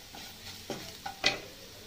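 Masala tomato paste being stirred and fried in a pan, giving a soft, close sizzle with a few brief scraping stirs and one sharper clink near the end.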